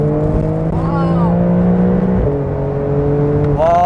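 Porsche 992 Carrera 4S Cabriolet flat-six in normal mode, a steady loud engine drone with rising pitch through acceleration and a gear change, heard from inside the car under brief talk.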